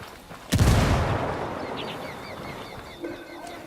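A single heavy gunshot blast in the Ghost Recon Wildlands video game, followed by a long rumbling decay, with faint bird-like chirps and a small thud later in the tail.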